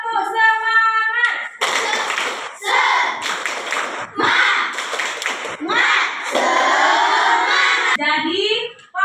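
Children in a classroom clap a quick patterned spirit clap together, bursts of claps and chanting voices filling the room, with an adult voice talking before and after.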